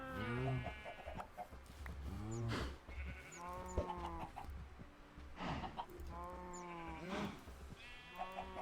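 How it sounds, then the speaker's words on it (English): Farm animals in Minecraft, with chickens among them, give a series of bleating and clucking calls at close range over a low steady hum, several overlapping cries with no talk. "Yay, chickens."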